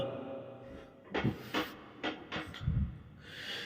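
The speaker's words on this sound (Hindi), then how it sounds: "यह कहकर वो दरवाजा बंद करके चला गया।" A door being closed in a room, heard as a series of close wooden knocks and thuds with a latching clack near the end, set against a faint background hum.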